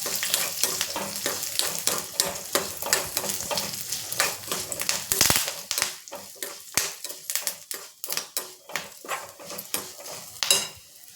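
Tamarind and other ingredients roast in a pan for peanut chutney, with a crackling sizzle under repeated sharp scrapes and stirring knocks of a spoon against the pan, close and uneven.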